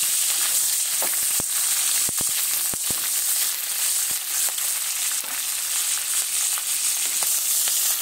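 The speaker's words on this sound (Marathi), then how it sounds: "आपण हे मिरची फ्राय करून घेऊया तेलामध्ये" Green chillies frying in hot oil give a loud, continuous close sizzle with scattered sharp pops and crackles throughout, and no speech.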